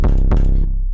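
A custom-made 808 bass in an FL Studio beat booms loud and close, two quick punchy hits followed by a long, deep, sustained low tail, with nothing else heard.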